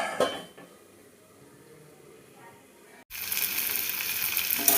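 A lid clanks sharply onto a pan of cauliflower cooking with spices, after a quiet stretch. Sizzling continues strongly right afterward.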